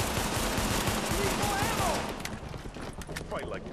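In The Division, pistol gunfire pops in dense, loud volleys with talk mixed in, then thins to scattered, sharper shots.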